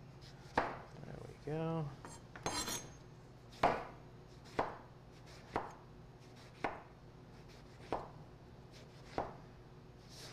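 A knife chops and slices eggplant on a board, about a dozen sharp, evenly spaced cuts. A brief squeaky scrape sounds near the start, and a voice speaks once.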